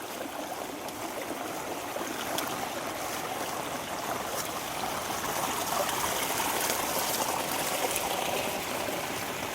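Water of a river runs steadily as a broad rushing and trickling wash, continuous and fairly close, with no talk over it.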